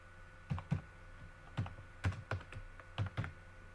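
Short bursts of key clicks on a computer keyboard while a file name is typed, arriving in small irregular clusters, close and fairly quiet, with no voices.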